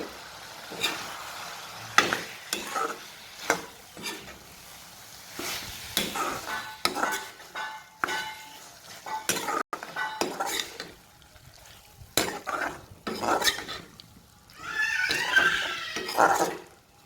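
Egg curry gravy with boiled potatoes being stirred in a pan, a spoon scraping and clinking against the metal in irregular bursts, with a soft sizzle and moments of quiet between strokes.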